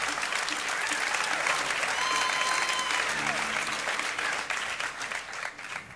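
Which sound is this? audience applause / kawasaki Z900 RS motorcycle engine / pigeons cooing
audience applause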